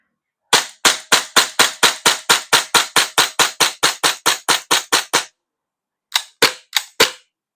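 A KJ Works CZ 75 SP-01 Shadow gas BB pistol fires about twenty sharp, close shots in a quick, even rhythm, pauses briefly, then fires four more, each crack loud and snappy.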